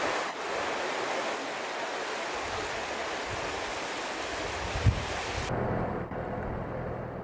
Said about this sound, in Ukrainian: З берегів вийшли місцеві річки і паводки затопили провінцію Квебек